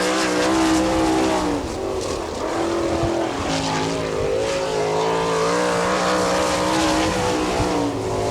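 A sprint car on a qualifying lap at Attica, Ohio, during an All Star Circuit of Champions race, its engine roaring loud and steady with rising and falling pitch sweeps through the turns. No talk.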